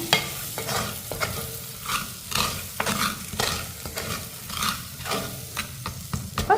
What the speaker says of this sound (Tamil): இதை எல்லாத்தையுமே நல்லா வதக்கிக்கிடுவோம்.